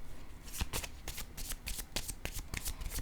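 Oracle cards are shuffled by hand and one is drawn, a rapid close flutter of riffling card stock with soft slaps, steady and fairly quiet throughout.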